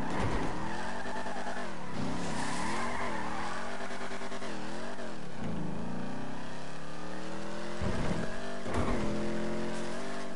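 A car in GTA Online slides and skids after a crash, tires squealing in long wavering tones over a revving engine, with a few sharp impacts near the end.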